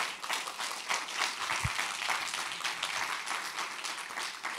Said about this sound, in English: A big round of applause to our panel.